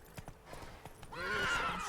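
Roach the horse in a video game, with a few hoof clops followed by a loud, close whinny.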